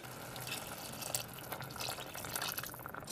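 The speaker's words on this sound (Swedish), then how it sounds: "Så nu är det dags att tillsätta vatten." Water is poured into a pot of paprika soup with onion and tomatoes, a faint, continuous trickling and splashing that runs without a break and with no voice over it.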